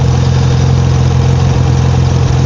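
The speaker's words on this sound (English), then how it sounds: "As you can hear, just your regular VG30 DETT noise." A twin-turbo VG30DETT V6 car engine idles smoothly and steadily, a loud, close, even rumble with no talking.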